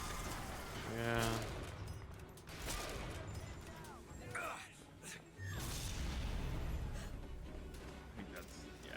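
Rapid turret gunfire in the video game Bioshock Infinite, loud bursts of repeated shots with mechanical clatter, mixed with game effects and a faint gasp.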